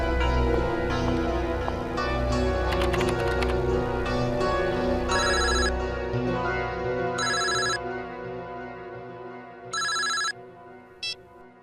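A telephone rings in short electronic bursts, three clear rings spaced a couple of seconds apart that follow a dramatic musical score that fades out, loud and close.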